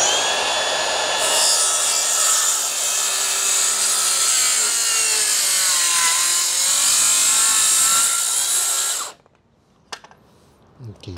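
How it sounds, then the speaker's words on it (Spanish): A hand saw cutting through a wooden rafter with steady, close, rasping strokes for several seconds, then stopping abruptly, followed by a few faint knocks. "Para esto voy a usar este serrucho."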